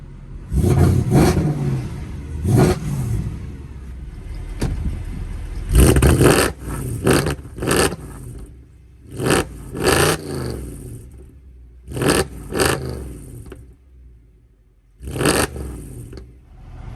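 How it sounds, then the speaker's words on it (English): A big car engine idles with a deep rumble and is revved hard again and again, the throttle blips spaced out and punctuated by loud roars. "once we rev this thing, it just sounds absolutely crazy."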